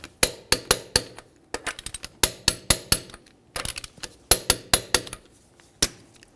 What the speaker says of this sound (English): we'll torque these in a crisscross manner